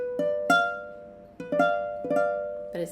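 A diminished triad on piano, played as an ear-training comparison against a minor chord, sounds in four clear strikes: each note rings briefly, then stacks into a held chord, alone and close.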